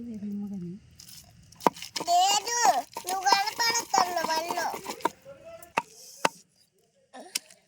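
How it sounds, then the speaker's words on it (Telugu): Onions pounded by hand for a rustic roti chutney, a series of sharp, close thuds with crunchy crushing, mixed with a voice and other talk nearby. "ఉల్లిపాయలు దంచుతుంది."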